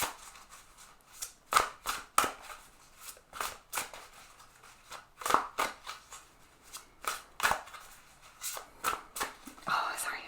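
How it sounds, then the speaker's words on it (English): Repeated crisp riffling bursts of a Druid Craft tarot deck being shuffled, close up and fairly quiet, coming in irregular clusters over about ten seconds. "I'm just shuffling the Druid Calf deck here."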